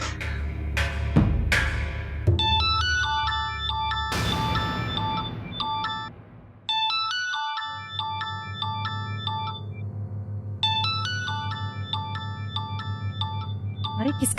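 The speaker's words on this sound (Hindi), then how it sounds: "अरे किसका फोन है? उठाता क्यों नहीं?" A melodic electronic phone ringtone plays in repeated bursts of tinkling notes, with a few sharp knocks at the start and a gap midway.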